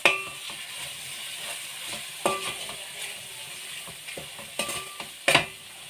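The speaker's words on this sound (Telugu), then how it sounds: "ఇప్పుడు అంతా కలుపుకుందాం" Egg biryani masala with tomato and a pinch of garam masala sizzles in a pan while a spoon stirs it, giving a steady frying hiss with scraping strokes and a few sharp metallic clinks.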